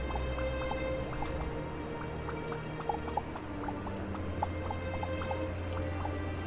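Faint watery drips and sloshing in Starbound, scattered irregularly over a steady low hum and soft tonal background.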